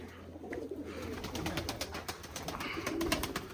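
Pigeons at a dovecote of Semey breed pigeons, white-headed and grey-barred birds, coo softly and repeatedly against steady outdoor background noise, with no speech.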